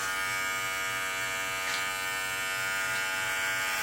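Electric clippers buzz steadily and close up, a continuous hum with faint pulsing as a girl shaves her own head at home, hair falling to the floor.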